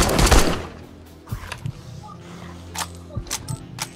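Machine gun fire in the 7 Days to Die video game: a loud opening burst of rapid shots followed by scattered fainter pops and clicks.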